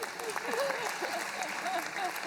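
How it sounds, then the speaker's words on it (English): Audience applause in a lecture room at a talk on pain management, a steady moderate clapping from part of the crowd, heard beneath a speaker's continuing voice. "This part of the room clapped for that answer."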